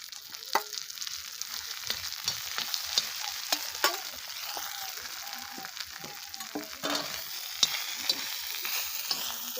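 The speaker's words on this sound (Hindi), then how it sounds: "तो हम इसमें अब डाल देते हैं" Bathua, spinach and mustard greens sizzle and crackle in a pan with a chilli-garlic paste while being stirred, the spoon scraping in irregular strokes, close and fairly quiet.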